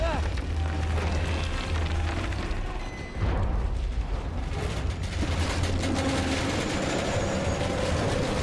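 A moving train in the video game Uncharted 2 gives a steady, loud mechanical rumble and clatter of rolling cars with low booming undertones. It runs continuously, dips briefly in the middle, and carries no speech.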